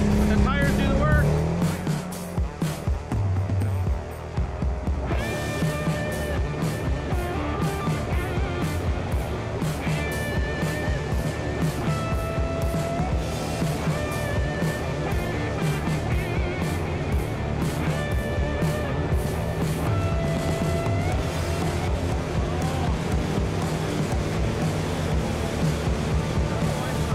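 Can-Am Renegade 1000 ATV churning through super deep mud, engine revving loud and steady throughout with broad noisy splashing and tire spin, people talking over it.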